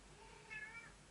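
A house cat meows at a closed door, a short plaintive call rising in the middle of the moment over quiet room tone, moderately close and alone without talk.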